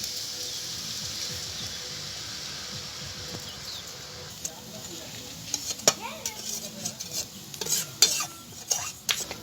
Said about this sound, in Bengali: হাত দিয়ে ঘষে ঘষে এরকম করে চানাচুরটা ভেজে নেব